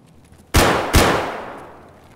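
Two loud, close gunshots crack in Escape from Tarkov on the Interchange map, about half a second apart, each followed by a long fading echo.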